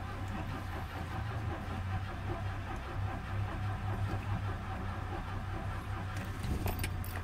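A 1975 Citroën CX Pallas engine cranks after sitting through winter, a continuous low, rough churning drone that holds steady for several seconds without catching, heard close with no talk.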